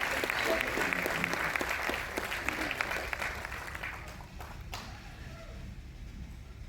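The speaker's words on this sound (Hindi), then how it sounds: "जोरदार तालियों के साथ स्वागत करना" A crowd at a Ramakrishna Mission lecture event in a civic centre hall claps steadily to welcome speakers, dense applause that thins and fades out toward the end.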